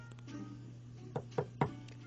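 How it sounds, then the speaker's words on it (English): Three sharp knocks on a door, evenly spaced and fairly close, over a steady low hum, in a Halloween setting where guests are arriving. "A knock on the door."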